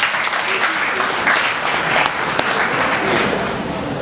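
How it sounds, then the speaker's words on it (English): Audience applause at a Nigeria Independence Day celebration, steady dense clapping held for several seconds with some voices mixed in. "Can you all give me my applause,"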